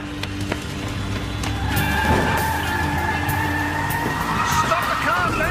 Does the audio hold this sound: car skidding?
yes